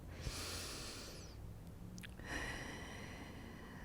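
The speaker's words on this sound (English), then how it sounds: "deep cleansing breaths." Deep cleansing breaths during a prenatal home workout, a slow, soft inhale and exhale heard close up against a faint background with no talking.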